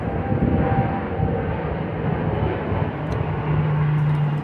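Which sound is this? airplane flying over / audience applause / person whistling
airplane flying over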